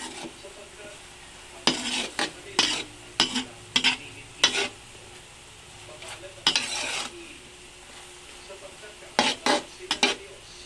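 A spoon stirs sticky rice in a pot, giving a run of scraping, clattering strokes in irregular bursts over a soft simmering background, with no talk.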